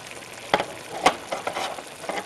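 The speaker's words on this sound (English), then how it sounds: "now I'm going to add a can of crushed tomatoes." A 28-ounce can of crushed tomatoes with basil going into a hot pan for home-style Bolognese sauce: bursts of wet sizzling and spattering with a few sharp splashes, fairly close and loud.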